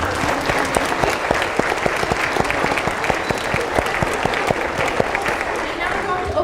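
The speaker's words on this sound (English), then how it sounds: "now we'd like to give a round of applause for Parkmore" An audience applauds after a keynote presentation at a science event, a dense sustained clapping with a few sharper individual claps standing out, heard alone and at steady loudness.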